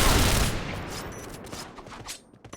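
Gunfire from a Counter-Strike style video game: a dense burst of rapid shots at the start, tapering into scattered sharp reports, with no talk over it.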